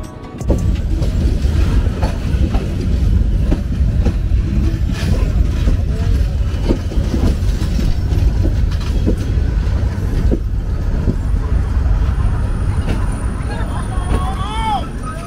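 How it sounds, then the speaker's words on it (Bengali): Chattala Express passenger train running on rails, a loud continuous rumble with rattling from inside the carriage and a faint squeal near the end, under steady background chatter. "নির্ধারিত সময় থেকে প্রায় 11 মিনিট বিলম্বে আমাদের ট্রেন ছেড়ে বের হচ্ছে"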